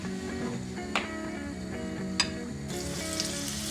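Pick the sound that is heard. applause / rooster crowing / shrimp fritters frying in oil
shrimp fritters frying in oil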